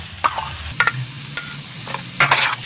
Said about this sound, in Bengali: আমি সব একসাথে এটাকেও মিশিয়ে নেব